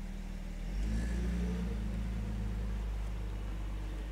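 A 1970 Mercedes 280 SE Cabriolet pulls away, its engine a steady low drone that swells briefly in a gentle rev before settling, heard fairly quietly with no talk.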